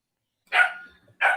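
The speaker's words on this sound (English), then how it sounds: "the pup seems to want to bark right now" A pup barks twice during a livestreamed beekeeping chat, two sharp, fairly close yelps separated by a brief pause, with no voices over them.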